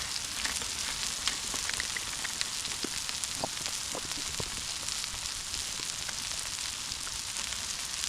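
Onions sizzle and fry on a Blackstone griddle in a steady, dense crackle with scattered small pops, close and continuous with no voices.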